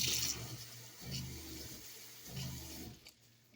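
Cold water runs from the sink faucet of a 2007 Starcraft RT 10 off-road pop-up camper, coming in three gushing pulses with brief gaps, close and moderately loud.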